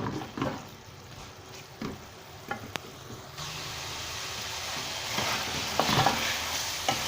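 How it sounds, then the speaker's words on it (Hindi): Beef chilli sizzles and fries over high heat, a continuous crackling hiss with occasional scraping stirs and bursts of louder spitting, heard close up without talk. "थोड़ी तेज़ बाहि ते हिनखे असां पचाईंदासीं जीअं जल्दी सां कंप्लीटली ड्राई थी वञे"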